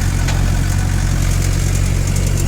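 A 2000 Mahindra 575 tractor pulling a 9-tyne cultivator through a field, its diesel engine a loud, steady, close drone with a constant low rumble and no variation in pace.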